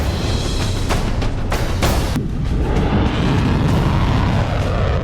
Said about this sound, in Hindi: इजराइल के आसमान में रात भर बारूदी धमाके होते रहे।